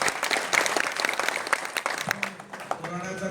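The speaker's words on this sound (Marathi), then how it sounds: "म्हणून एकदा परत टाळ्या वाजवा." An audience at a political meeting in a hall breaks into loud, sustained applause, with a voice beginning to speak over the clapping toward the end.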